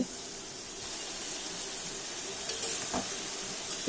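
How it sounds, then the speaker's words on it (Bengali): Snake gourd pieces cooking in a pan with salt and turmeric give a steady, soft sizzle and hiss, broken by a few faint stirring scrapes near the end. "তারপর নুন হলুদ দিয়ে একটু নাড়ালাম, ঢাকা দিয়েছি।"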